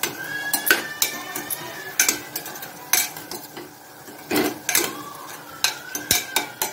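Green peanuts are sautéed in a pan, with a string of sharp spatula scrapes and clinks against the metal over a faint sizzle, close up and with no talking.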